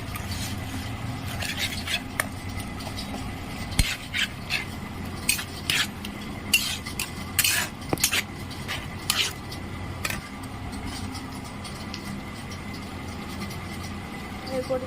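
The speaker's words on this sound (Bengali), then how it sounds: "ভালো করে নেড়ে নেবো।" A utensil stirs masala Maggi noodles with tomato, green chili and soy sauces in a pan, giving intermittent scraping clinks against the metal over a faint, low background sizzle.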